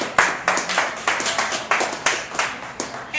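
A small audience claps in a loose, uneven rhythm of separate sharp hand claps, close and moderately loud, with no cheering over it.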